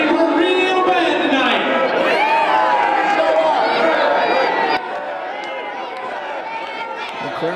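A loud, dense crowd at an MWA heavyweight title wrestling match cheers and shouts steadily, dipping slightly in level partway through.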